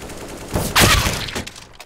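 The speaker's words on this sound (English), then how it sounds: "Yeah, I'm being shot through a wall." Gunfire in the game CS:GO, shooting through a wall: a quick burst of several loud, close shots packed into under a second, followed by a fading tail.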